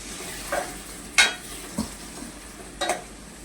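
Phodni tempering with tomatoes for a sprouted mung bean curry, a soft steady sizzle broken by a few sharp spoon stirs and scrapes against the pan, no talk.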